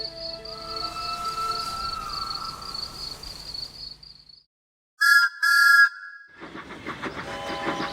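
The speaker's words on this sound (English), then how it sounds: "Lily heard the sound of a train whistle outside her window" A train whistle sounds in a long sustained tone alongside rumbling machinery, then two sharp whistle blasts ring out after a brief silence, followed by chuffing noise.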